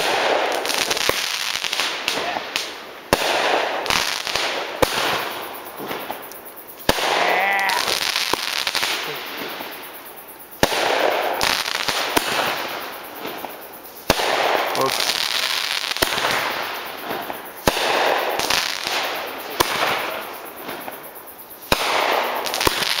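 Fireworks burst again and again over a cabin at night, sharp booms and crackling pops in irregular volleys across the whole stretch, with people chatting and exclaiming between and over the blasts.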